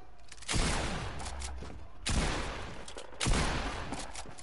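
Fortnite gunfire: three heavy bursts of shots crack out at roughly one-and-a-half-second intervals, each followed by a rumbling tail, loud and close with no talking over them.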